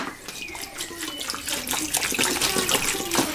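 Water poured into a cooking pot for molokhia, about one and a half to two litres, a steady close splashing gush that grows fuller as the pot fills, with no talk.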